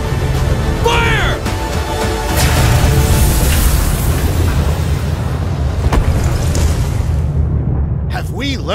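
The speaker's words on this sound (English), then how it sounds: "Preparing to fire main cannon!" A main cannon charges and fires in the Sand Land video game, producing a long, loud, rumbling blast and explosion with whooshing, sustained through most of the stretch, while a voice talks over it.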